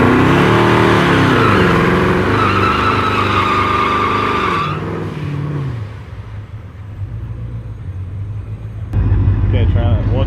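A 2018 twin-turbo Mustang at a track, its engine revving loudly and climbing in pitch for several seconds, then dropping to a lower rumble before a sudden burst of noise near the end.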